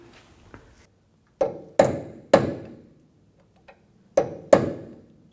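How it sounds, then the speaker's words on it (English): Sharp metallic hammer strikes on a punch while replacing an inner tie rod on a 2011-15 Kia Sorento, five distinct ringing taps in two small groups with brief pauses, close and clear with no talking. "So we'll take a little punch and a hammer"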